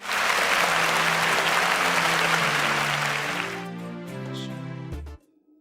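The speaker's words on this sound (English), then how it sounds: "So please, a round of applause" A studio audience applauds competition contestants at a semi-final, loud sustained clapping that fades into background music before cutting off.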